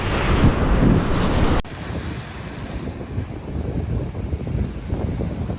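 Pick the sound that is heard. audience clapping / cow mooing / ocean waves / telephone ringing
ocean waves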